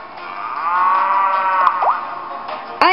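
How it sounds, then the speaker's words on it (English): A Minotaur cow in the video game Miitopia lets out one long, loud, drawn-out moo with a wavering pitch, followed by a shorter bellow and a sharp hit at the end, with no talking. "Yep, that is a cow."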